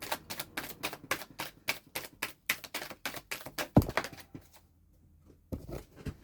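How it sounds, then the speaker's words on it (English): Tarot cards tapped, dropped and handled in a quick, uneven run of light clicks and slaps, close by, pausing briefly before a final cluster of taps. "Dropping cards everywhere."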